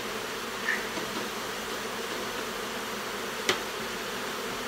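Faint, steady bee buzzing hums in the background inside an extraction facility, with a couple of brief louder buzzes as bees fly close by.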